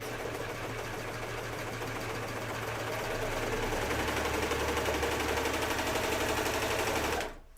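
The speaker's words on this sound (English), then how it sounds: "I got my serger all the way into that little crook right there." A serger stitches through denim while sewing jeans, running as a fast, steady mechanical chatter that is loud and close and holds nearly unbroken before stopping abruptly at the end.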